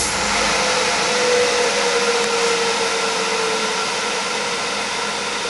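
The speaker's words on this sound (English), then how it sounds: "So you can hear the motor spooling down" A Tormach PCNC 1100 milling machine spindle motor winding down after the power drawbar is used, a loud steady whine and whoosh of air whose tone slowly drops and fades over several seconds.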